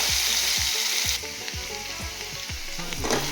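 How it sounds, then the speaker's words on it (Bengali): Marinated mutton fries with onions in a pan, a bright sizzle under a string of rhythmic scraping stirs about every half second, close and fairly loud with no talking. "তারপরে দেবো এই ম্যারিনেট করা মাংসটা। এটা একটু নাড়বো"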